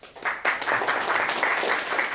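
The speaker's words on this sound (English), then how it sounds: "Another round of applause for our great master, Toastmaster Saleh." An online club meeting audience gives a round of applause for a Toastmaster, dense clapping starting abruptly and continuing steadily at moderate loudness.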